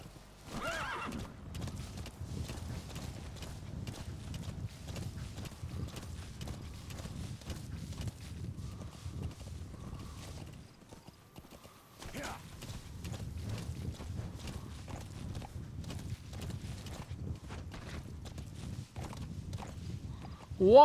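Horse hoofbeats and a whinny in the Metal Gear Solid V video game, a steady muffled clip-clop rhythm running continuously under ambient game sound, moderately loud, with a short break midway.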